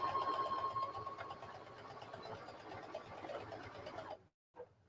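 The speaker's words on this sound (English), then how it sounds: "then I'm going to back stitch a couple of times, and then I'm just going to sew straight down" A sewing machine runs a steady straight seam through patchwork made from fabric scraps and old blue jeans, a continuous close whirring hum that stops abruptly near the end, followed by a brief last burst.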